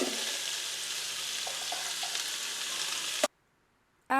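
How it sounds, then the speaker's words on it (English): Onions tipped all at once into olive and vegetable oil in a large stock pot sizzle loudly and evenly for about three seconds, then the sound cuts to near silence before briefly returning. "Then add your onions at once."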